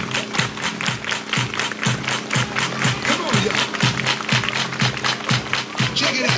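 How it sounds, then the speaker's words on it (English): People clapping hands in a steady regular beat to dance music, each clap sharp and evenly spaced over the thumping track, with crowd noise around. "Everybody clap your hands."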